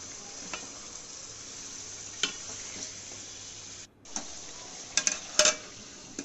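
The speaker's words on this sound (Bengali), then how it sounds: "এখন আমি এখানে 2 কিলো মাটন দিয়ে দেব। মাটনটাকে আমি খুব সুন্দরভাবে কষাতে থাকব।" Two kilos of mutton frying in a pan as it is stirred and browned, with a steady low sizzle broken by a few sharp scraping clicks and clatters of the spoon against the pan.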